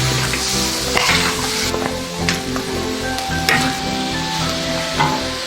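Shredded ginger goes into simmering broth for a Sichuan-style steamed Chinese longsnout catfish, heard as close, continuous sizzling and bubbling with stirring scrapes and occasional utensil clinks against the pot.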